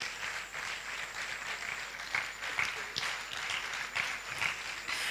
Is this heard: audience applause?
yes